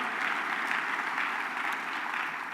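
Audience applause fills a sustainability summit hall in Denver, a steady dense wash of many hands clapping at even strength throughout, with no voices over it.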